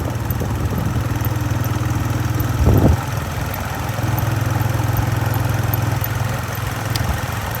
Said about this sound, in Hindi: और निकलते हैं बाइक लेके।